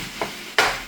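Ground meat for spaghetti browns in a pan and gets stirred, with loud scraping strokes in short bursts over a steady sizzle.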